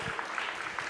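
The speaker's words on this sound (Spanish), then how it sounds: "Es un aplauso de agradecimiento" Congregational applause of thanks at a church service, a steady wash of clapping from many hands carrying through the whole moment, with a faint voice underneath.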